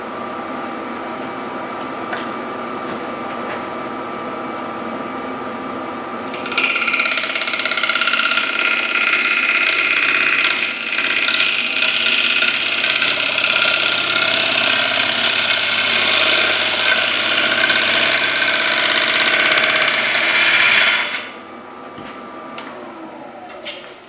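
Wood lathe spinning a live edge maple bowl turned from a small crotch log, a steady whirring drone that rises sharply in pitch and loudness as the speed is increased, holds for several seconds, then drops back.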